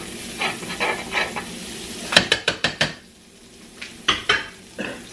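Metal utensils scrape and clatter against a frying pan where pork chops fry in olive oil and butter, a quick burst of five or six sharp scrapes over a steady sizzle, then a few more clinks, with no talking.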